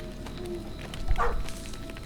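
In the video game Maid of Sker, a dog gives a single short bark or yip at mid distance over a low ambient hum, with no voices.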